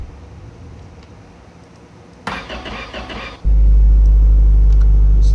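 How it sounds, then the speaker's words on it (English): Car engine starting up, a brief cranking burst followed by a loud, steady low idle that runs close and alone to the end. "It's the quietest engine ever"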